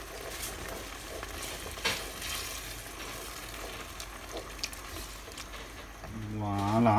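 Pasta sauce of cream and tomato passata cooking in a pan for penne rigate al forno, a soft steady sizzle with occasional stirring clicks, then a louder rumbling swell near the end.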